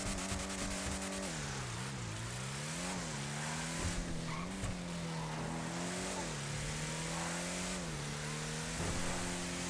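Declasse Draugur engine in GTA Online revving steadily, a loud aggressive growl that rises and dips in repeated pulses with faint tire squeal, heard alone without talk.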